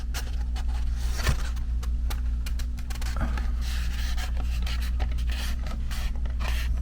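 Dried watercolor painting on paper being folded and handled, giving scattered crisp rustles and scrapes over a steady low hum, close and moderately loud.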